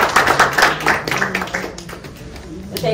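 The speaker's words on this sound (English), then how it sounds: "So a round of applause yet again for the new signings" Applause at a SuperSport United press event announcing new signings, a loud burst of clapping that thins and fades over a few seconds, with voices mixed in.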